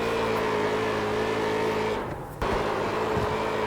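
Street stock car in the iRacing sim spinning donuts at Iowa Speedway, a steady close engine drone with tire noise, a brief dip and then a sharp thump like a wall hit before the engine roars on.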